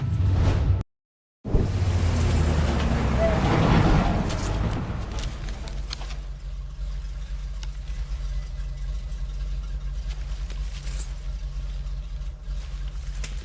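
A truck engine runs steadily in a Mafia 3 video game cutscene, a low continuous rumble with a whooshing surge early on, then a constant idle-like drone for the rest.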